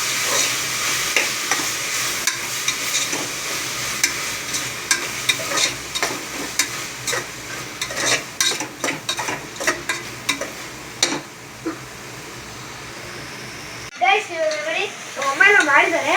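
An egg curry masala of onion, tomato, ginger-garlic paste, coriander and mint is stirred in a pan, with rapid, uneven scraping and clacking of a spoon over a soft sizzle, easing off before a voice speaks near the end.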